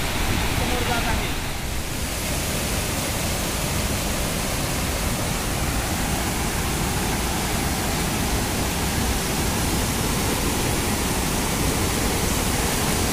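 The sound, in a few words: water rushing over lake spillway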